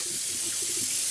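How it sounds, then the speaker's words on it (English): Water pours steadily from a kitchen tap while a turkey is rinsed under it, a loud, continuous close-up hiss. "I hope you guys can hear me over the top of the water"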